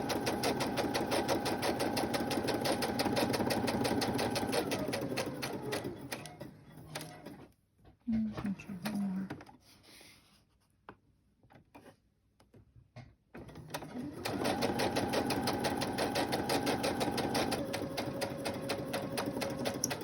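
A sewing machine stitches an envelope closed, its steady mechanical whir running loud for several seconds, pausing into near silence, then resuming at the same pace.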